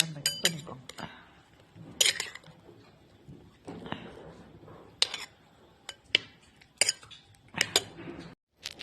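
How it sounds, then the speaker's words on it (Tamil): A spoon clinks and scrapes in a bowl as chopped banana is mixed into ice cream, producing short bright taps and scrapes in irregular bursts, close by and fairly soft. "நல்லா மிக்ஸ் பண்ணிக்கோங்க"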